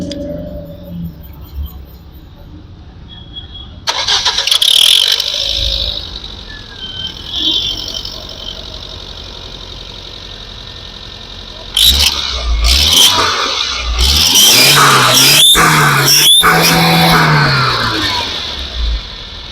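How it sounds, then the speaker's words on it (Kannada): A 2014 Tata Zest petrol car in very good condition starts up and idles, then revs hard several times, the engine surging loud and close before settling back. "ಇಂಜಿನ್ ಸೌಂಡ್ ಕೇಳ್ಕೊಂಡ್ರೆ ಸೊ ಸ್ಮೂತಾಗಿ ಮೇಂಟೈನ್ ಮಾಡಿದ್ದಾರೆ ಅಂತ"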